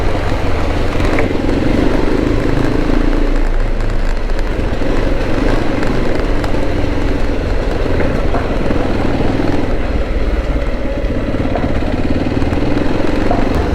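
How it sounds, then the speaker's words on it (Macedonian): Motorcycles ride along a dusty, rough canyon road, their engines a loud, continuous drone with rumble and rattle, joined by wind noise and gravel crunch throughout. "има и други мотори кои што ми оставија многу прашина"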